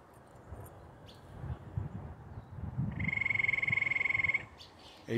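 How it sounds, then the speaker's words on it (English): A single tree frog gives a rapid pulsing trill for about a second and a half, clear against quiet outdoor background noise. "you guys heard that? That was a tree frog."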